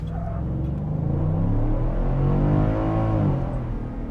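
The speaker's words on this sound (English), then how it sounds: "Revs right out in first." Ford F-150 Tremor V8 at full throttle in first gear, a loud, close engine roar climbing steadily in pitch as it revs out, then easing slightly near the end.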